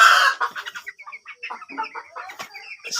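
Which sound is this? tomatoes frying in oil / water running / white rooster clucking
white rooster clucking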